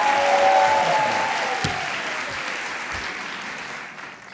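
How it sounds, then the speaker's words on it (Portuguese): Studio audience on a Brazilian TV talk show claps loudly at first, the applause gradually thinning and fading over a few seconds, with faint sounds from the stage underneath. "Mais um aplauso."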